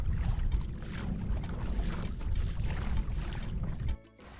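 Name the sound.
kayak paddling along seagrass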